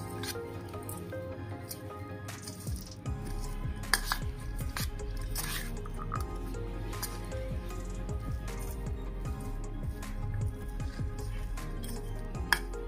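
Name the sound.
hand-mixing sago cutlet mixture with ingredients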